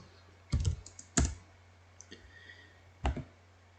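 Typing on a computer keyboard: a few sharp clustered clicks of keys, close and clear in a quiet room, with no talking.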